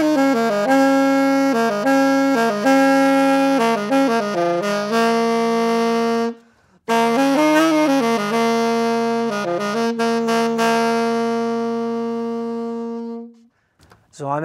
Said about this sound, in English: you literally growl when you play the saxophone